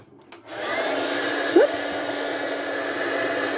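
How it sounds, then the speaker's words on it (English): A heat gun switches on with a soft click and then blows a steady, loud whirring roar across faux leather, holding constant throughout. "then you bring in your heat gun"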